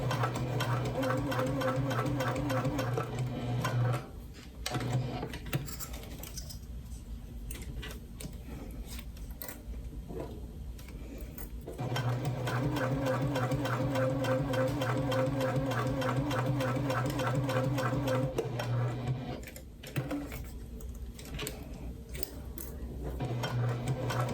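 A sewing machine stitches around the edge of a fabric pouch, running in steady, close, even bursts with a long pause partway through and a brief stop near the end.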